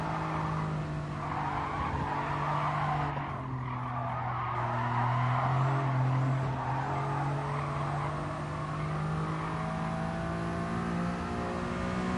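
Tires squeal and scrub in a long, continuous skid as a car understeers through a corner in GT Sport, with a steady engine drone underneath.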